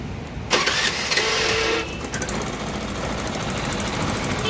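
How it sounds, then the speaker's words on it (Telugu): A Honda Activa 4G scooter is self-started after a wiring repair. A loud starter whir lasts about a second and a half, then the engine catches and settles into a steady, close idle rumble. "ఇప్పుడు దీనికి సెల్ఫ్ స్టార్ట్ చేసి చూస్తాను"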